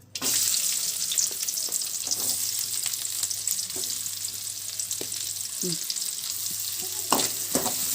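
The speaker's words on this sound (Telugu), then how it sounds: "ఎగ్స్ ఉడికించినటువంటి ఆయిల్లోకి ఇంకొంచెం ఆయిల్ యాడ్ చేసుకొని తరిగి పెట్టుకున్నటువంటి ఉల్లిపాయల్ని కొంచెం వేయించుకోవాలి" Chopped onions frying in oil in a pan for egg biryani, a steady bright sizzle with occasional stirring clinks and scrapes throughout.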